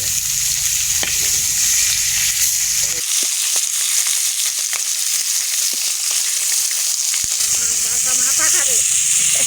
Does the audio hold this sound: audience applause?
no